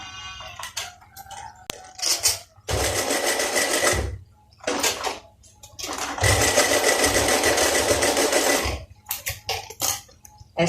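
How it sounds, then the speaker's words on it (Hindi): Sewing machine stitches the reverse side of a folded gents' shirt placket with cut band, running in two long loud bursts with shorter start-stop runs and handling clicks between them, no talk. "ऐसे फोल्ड करने के बाद हम इसके उल्टी साइड पे यहाँ पे सिलाई लगाएंगे।"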